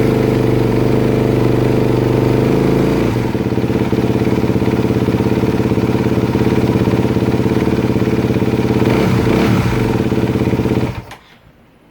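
Honda CRF250R (2018-2025) dirt bike engine running after a top-end rebuild with a new piston: a loud, close, steady idle that shifts slightly after a few seconds, then cuts off abruptly.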